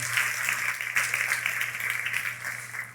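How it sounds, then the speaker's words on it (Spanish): Congregation in a church service applauding together, a steady dense wash of clapping held at moderate level from start to finish with a low steady hum beneath. "dale un fuerte aplauso al Señor"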